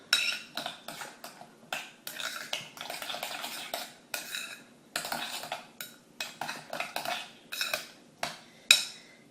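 A spoon stirs yogurt sauce in a bowl, giving repeated quick scraping clinks and taps against the dish in an uneven rhythm, close and fairly quiet, with no talking.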